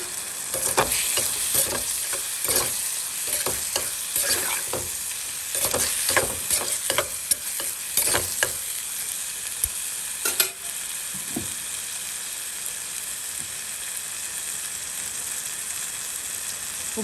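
Onions sautéing in a pan for a home-cooked prawn, crab and squid curry lunch, a steady close sizzle broken by repeated scraping, clattering stirs, fading to a calmer frying hiss toward the end.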